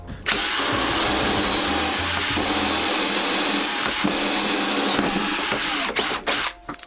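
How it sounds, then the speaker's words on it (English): A power drill whines steadily and loudly, boring a 20mm hole into an MFT-style workbench top continuously for several seconds, then stutters and stops near the end. "And then I can drill that hole."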